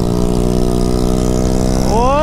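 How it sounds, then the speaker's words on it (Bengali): A superbike engine on a highway in Jharkhand drones loudly and steadily up close, then its pitch climbs into a rev toward the end. "এই যে সুপার বাইক দেখো ভাই, ঝাড়খণ্ডের সুপার বাইক ভাই"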